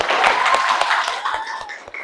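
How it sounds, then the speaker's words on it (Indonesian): Hands clap in a quick, steady rhythm, roughly every quarter second, amid a small classroom group's noisy chatter and cheering. "Kasih tepuk tangan dulu biar semangat ya."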